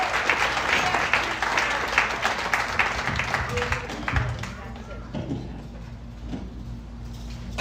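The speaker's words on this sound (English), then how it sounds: "Give him a big round of applause." Loud audience applause greets the Health Camp of New Jersey president at a volunteer appreciation meeting, strongest at first, then thinning into scattered claps and room noise with a voice emerging.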